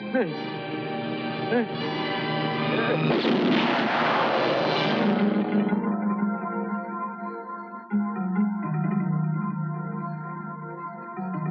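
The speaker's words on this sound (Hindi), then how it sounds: "भरी हुई बंदूक हमेशा चलती है।" A loaded gun fires in a Hindi film scene: one loud, roaring blast erupts mid-scene and decays, with spoken dialogue and a tonal score before and after it.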